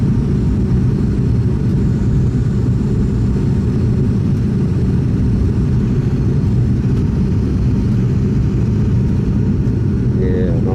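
Steady cabin drone of an ATR72 turboprop airliner in flight, a loud continuous low-pitched engine and propeller roar with airflow hiss, unbroken throughout during a slightly bumpy flight.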